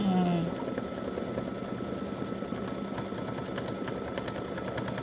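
A machine embroidery machine stitches an edge-to-edge butterfly and hibiscus design, a rapid, steady mechanical rattle and hum that runs continuously and close throughout.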